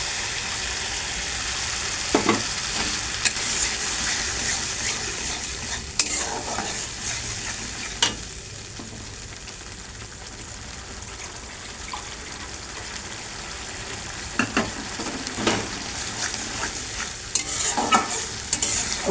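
A masala of cashew, raisin and poppy seed paste frying in a pan with sugar, a steady close sizzle broken by repeated spatula scrapes and stirs, with no speech.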